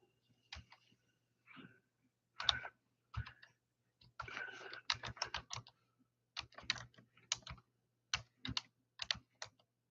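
Bursts of computer keyboard typing, several quick clattering runs of key clicks separated by short pauses, close and fairly quiet with a faint steady hum underneath.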